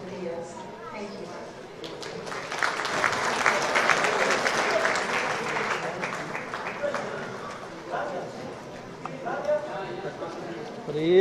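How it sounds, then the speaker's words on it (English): At an awards ceremony, an audience claps for actress Deepika Padukone, the applause swelling through the middle and fading, with voices and a presenter talking around it. "a warm round of applause for Deepika Padukone"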